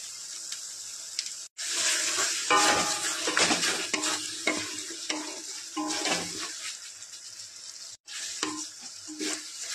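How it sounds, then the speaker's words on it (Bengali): Tomato masala with Kashmiri chili powder sautés for Bengali rajma, with bursts of sizzling and scraping stirs, brief pauses, and pot clatter nearby. "একটু ভালো করে কষিয়ে নেব টমেটো মশলা"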